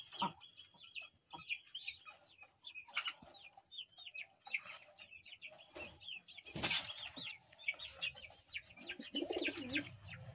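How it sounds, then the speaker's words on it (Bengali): Chickens of an Australian breed on a small farm cluck and coo continuously, with overlapping bird calls and a few louder squawks near the microphone, and no talk. "আর এদিকে যে অস্ট্রেলিয়া মুরগিগুলো ছিল"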